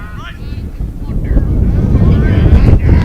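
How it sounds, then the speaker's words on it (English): Strong wind gusting across a microphone at an outdoor high school baseball game, a steady low roar building louder through the clip, with faint talk underneath. "Big gust of wind pushing through here"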